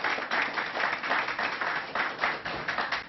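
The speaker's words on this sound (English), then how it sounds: "Let's give the mayor a round of applause." Steady clapping from a small group, a brisk rhythmic patter of hands that rises and falls slightly, with no voices.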